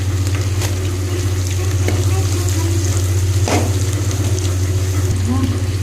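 Chopped onions going into a hot pan with green chillies for chicken noodles: a continuous sizzle with a few sharp clinks, set over a loud, steady low hum.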